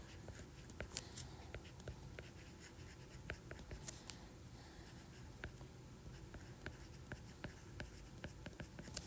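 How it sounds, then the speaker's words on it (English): Pen or pencil writing notes by hand on paper, a steady scratchy stream of small strokes and taps close by, fairly quiet throughout with no talking. "And so I'm going to write those down"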